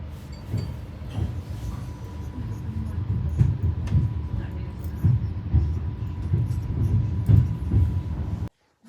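A new passenger train from Cherkasy to Kyiv pulls away and rolls along the rails: a steady low rumble with regular clunks from the wheels, and people talking faintly in the carriage.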